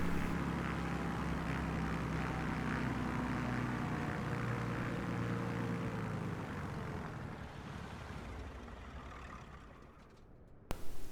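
A simulated airplane in Microsoft Flight Simulator 2020 touches down and brakes on the runway, its engine roar loud at first, then fading steadily as the aircraft slows, ending in a few short clicks.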